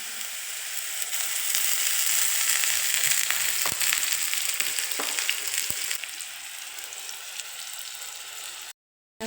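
Onions sizzle loudly in hot oil in a pan for a Kerala fish curry, a dense continuous hiss with a few crackles and soft stirring knocks, cutting out abruptly near the end.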